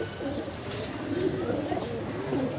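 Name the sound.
pigeon cooing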